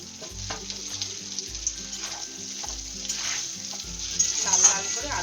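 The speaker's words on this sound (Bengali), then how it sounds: "এবার আলুটা ভেজে নিই" Potatoes frying in hot oil in a kadai for egg biryani, giving a steady sizzle with soft stirring scrapes and a few brighter spatters, close and continuous, with no talking.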